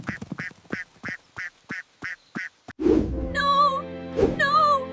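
Cartoon farm ducks quack in two loud, close calls, each a stretched nasal squawk, following a run of short evenly spaced honking syllables that sound like a voice imitating quacks.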